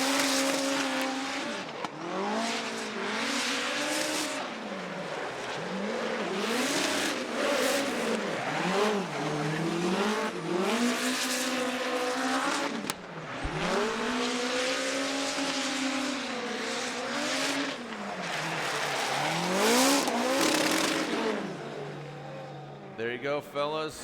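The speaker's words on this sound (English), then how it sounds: "let's just listen to this 4-cylinder turbo nitrous powered hot hatchback of Ryan Tuerck" A 4-cylinder turbocharged, nitrous-fed hot hatchback drifts at Road Atlanta during a Formula Drift competition, its engine revving hard in repeated rising and falling sweeps with tire squeal, loud and close for a sustained run.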